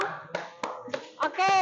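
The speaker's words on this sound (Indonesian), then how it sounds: "Tepuk tangan dulu dong." Students in a classroom give a few scattered hand claps after a group presentation, sparse and close, with children's voices talking over and between them.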